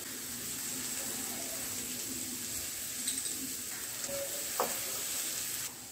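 Cut cluster beans sautéing with salt in a pan give a steady, close sizzle throughout, with faint stirring scrapes and a brief clink near the end.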